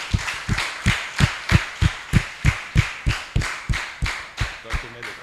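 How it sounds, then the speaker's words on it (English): An audience at a student pitch day claps in a slow, steady rhythm of about two to three beats per second. The claps are loud and evenly spaced, and it sounds like a small group clapping in unison. "So a big round of applause for yourself."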